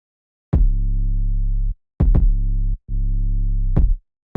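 A beat plays with a deep, sustained bass note sidechained via a Pro Q3 EQ, ducking out each time a punchy kick hits, giving three separate bass swells, each broken by a kick transient, with silent gaps between.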